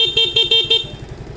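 The rewired stock horn on a white Yamaha Fazzio scooter gives four quick, loud, evenly spaced honks up close, then falls quiet.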